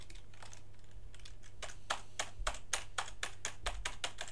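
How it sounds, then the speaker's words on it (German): Random computer keyboard keys pressed close up, as a steady run of quick, crisp clicks that gets more regular and a little louder over a low constant hum. "Ich drücke jetzt einfach mal irgendwelche random Tasten."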